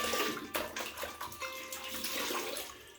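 Water running and splashing at a bathroom sink as a face is rinsed after a shave, a steady, fairly quiet wash of noise with one sharper splash partway through.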